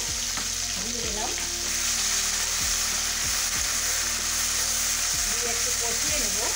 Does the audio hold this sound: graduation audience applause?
no